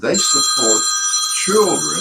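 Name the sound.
mobile phone ringing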